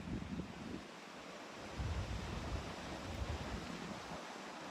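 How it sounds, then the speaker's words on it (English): Steady wind roaring across the microphone, a broad rushing noise with low buffeting gusts that swell and ease throughout. "look how windy it is"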